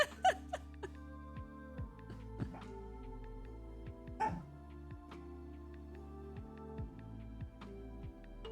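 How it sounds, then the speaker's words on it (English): A pet dog indoors on a rainy day gives a few sharp yips and barks near the mic over a steady background of music and tones, with grumbling noises in between. "what are you barking at?"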